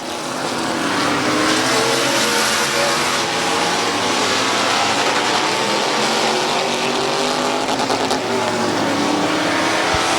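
Race cars roar around the oval at Midvale Speedway, a loud, steady blend of engines at full throttle with no break, close and constant throughout.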